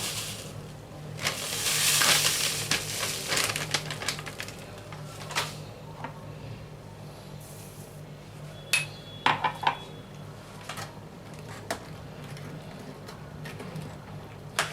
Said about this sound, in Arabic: قلبه كويس جدا لغايه ما السكر يدوب تماما معايا